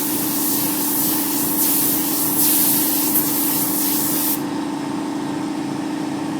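An airbrush spraying paint to create a wood grain finish, a close, continuous hissing spray with slight pulses before the spray cuts off near the end, leaving a steady compressor hum.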